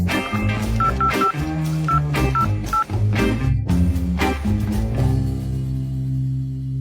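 Phone keypad tones while a phone number is saved: a quick run of short electronic beeps sits over continuous background music, then the music carries on alone.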